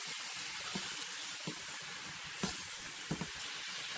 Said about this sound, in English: It's gonna steam the fish cakes a little bit.